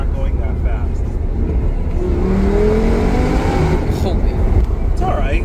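A supercharged Audi R8 V10 accelerates hard from inside the cabin, its engine note climbing steadily in pitch under continuous road roar, with a person speaking over it.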